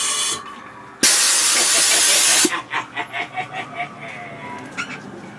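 Compressed air hisses in a loud, steady burst for over a second, then pulses in a series of short rhythmic puffs, as an air-powered animatronic clown prop in a haunted tent set-up runs.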